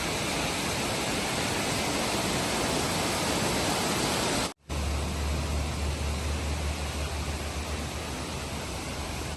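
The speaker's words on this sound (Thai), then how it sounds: "ตอนนี้เราอยู่ที่ น้ำตกคุรังนะคะ เป็นน้ำตกแห่งหนึ่งที่อยู่ใกล้โกค่ะ" Nuorilang waterfall in Jiuzhaigou, a dense, steady roar of falling water that fills the whole clip, cut by one brief break midway before resuming with a deeper low rumble added; no voices.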